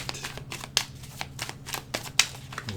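Tarot cards are shuffled loosely by hand in a quiet room, giving a series of soft, irregular riffling and slapping bursts close by.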